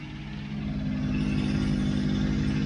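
A 1992 Mercedes 600SEL engine idles with a damaged, unsealed exhaust, giving a steady low rumble with a faint rhythmic pulse and light clatter, close and continuous with no talking.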